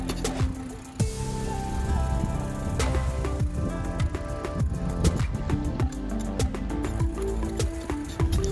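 A Huffy 26-inch Scout mountain bike ridden on a street: steady rolling and rattling with frequent clicks and knocks from the drivetrain and frame, close up and loud throughout.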